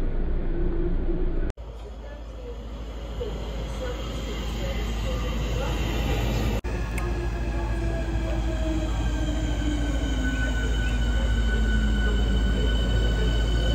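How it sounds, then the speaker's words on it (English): A crowded passenger train runs during a carnival outing, with a loud continuous rumble and rattle of wheels on rails, faint squealing tones and a couple of sharp clunks, steady and close. "why is the train so packed?"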